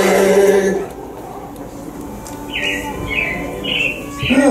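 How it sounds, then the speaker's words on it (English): Animatronic robins chirp in short, bright bursts during the Carousel of Progress show at Walt Disney World's Magic Kingdom, several tweets in a row after music fades, heard fairly close over a low room hum. "it looks like the Robins are getting ready to celebrate Valentine's Day today"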